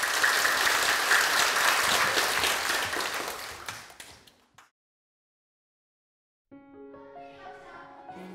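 An audience at a school musical club's showcase performance applauds warmly for about four seconds before the clapping fades to silence, then music starts.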